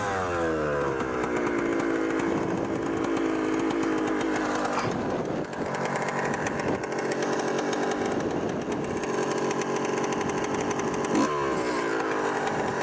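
Yamaha YZ 250 two-stroke dirt bike engine running steadily, loud and close, with a rising rev at the start and brief throttle blips near the middle and end; no talking.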